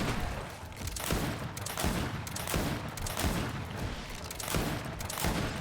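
Repeated gunfire in the video game Greedfall comes as loud, heavy blasts at a roughly steady rhythm, about one per second, with rumbling tails between the shots.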